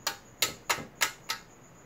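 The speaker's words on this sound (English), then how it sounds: "I'm hitting the unit with my finger because it's set to sound active." Five light, dry finger taps on the housing of an LED PAR 54 stage light, evenly spaced over about two seconds, close and quiet with no voices.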